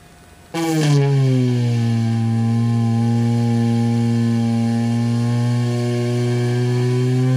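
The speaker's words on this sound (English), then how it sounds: "we're going to start by drilling about 1/8 of an inch in front of the point." A small drill starts suddenly and runs at a steady high-pitched whine for several seconds, drilling into cracked windshield glass, close and loud, with no voices.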